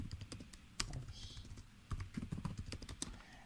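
Typing on a computer keyboard while setting up an online lesson, quick irregular clicks close by at low volume, with soft background noise.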